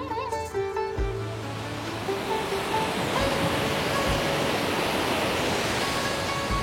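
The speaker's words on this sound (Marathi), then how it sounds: "मस्त वाहतोय हा धबधबा" A waterfall pours down a hillside near the old Dhutpapeshwar Shiva temple, making a dense, unbroken rushing roar. Brief tonal sounds come at the very start, then the water carries on alone.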